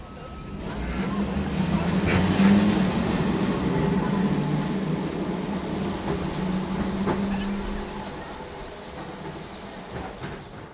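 Auckland Dockline Tram trundling around its loop, a steady low rumble and rolling rail noise holding close and even throughout with a few faint clicks, voices murmuring in the background.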